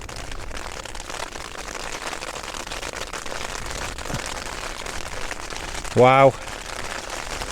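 Hailstones fall on a hillside wild camp during a storm with strong winds, making a dense, steady patter close by, broken briefly by one short exclaimed word from a man.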